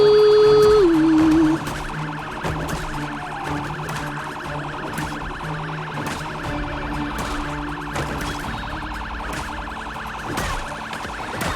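A siren in the Project Zomboid video game wails loud and continuous throughout, a rising and falling electronic tone with steady background noise, no voices over it.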